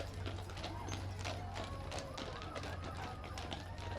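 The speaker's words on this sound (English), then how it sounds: "We have some Clydesdale horses now." Hooves of Clydesdale horses clip-clop on the street during the Prince Albert Exhibition parade, a quick, steady run of taps heard against busy outdoor crowd noise.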